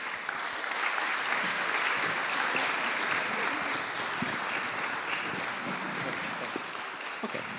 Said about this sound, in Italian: Accogliamo con un grande applauso Davide Giurilando e Peter Lloyd